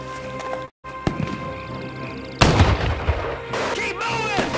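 Gunfire rattles through a Men of War 2 battle: sharp cracks and booms break up the soundscape, ending in a dense, loud burst of shots near the end, with brief voices mixed into the noise.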